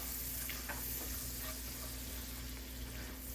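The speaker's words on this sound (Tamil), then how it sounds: "ஏன்னா நமக்கு வெங்காயம் வதங்கிட்டு இருக்கு." Onions sauté in a pan for a dhaba-style paneer bhurji, giving a steady, close frying sizzle with occasional scrapes from stirring throughout.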